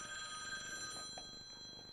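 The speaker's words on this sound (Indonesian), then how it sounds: "Ada telepon yang masuk ya." A telephone rings with an incoming call on a live television studio program, a steady electronic ringing tone with repeated pulses, moderately loud against a faint background.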